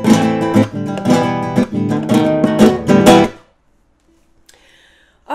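An acoustic guitar plays a rhythmic Mexican mariachi strumming pattern, bright and close, with repeated strokes for about three seconds before it stops and goes quiet.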